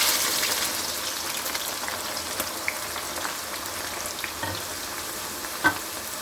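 Ginger, garlic and onion frying in hot oil with bay leaves and black cardamom, a steady close sizzle and crackle with occasional sharp pops, no voices.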